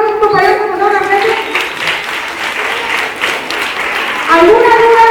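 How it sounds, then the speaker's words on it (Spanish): A school audience of students bursts into applause after a classroom shooting-safety drill, clapping steadily for several seconds while an adult voice keeps talking over it. "Un aplauso a su compañero, por favor"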